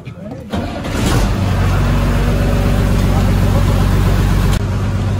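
An MSRTC bus on the Amravati to Bhopal route starts up with a low cranking catch, then settles into a steady, loud diesel idle that rumbles on close by, with a brief dip near the end.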